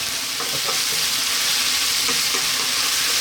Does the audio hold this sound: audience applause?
no